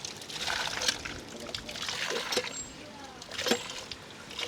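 Water trickling and splashing from a newly built hand pump well, a soft uneven flow with faint spatters, with people talking quietly nearby.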